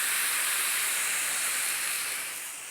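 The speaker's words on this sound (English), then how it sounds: "And now we can add some white wine." White wine poured into hot toasted risotto rice with onion and garlic in a pan, giving a loud, close, steady sizzle and hiss that fades slightly toward the end, with no talk.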